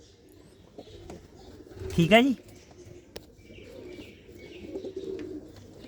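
Pigeons coo in a household loft, a short burst of bird calls rising briefly over quiet background, with someone speaking nearby.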